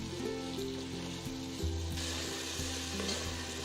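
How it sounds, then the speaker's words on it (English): Finely chopped ripe tomatoes sauté in a pan for chicken pulao, making a continuous close sizzle with a few soft bumps and a slight rise in hiss midway, no talking. "Saute the tomatoes till they become nice and mushy"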